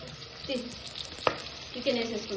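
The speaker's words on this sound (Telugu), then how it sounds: "ఇప్పుడు ఏగిన ఉల్లిపాయలు వేసి మనం కొన్ని చికెన్ వేసేసుకున్నాం" Chicken frying with onions and curry leaves in a pan, a soft steady sizzle broken by a couple of stirring scrapes and one sharp clink, heard close and fairly quiet.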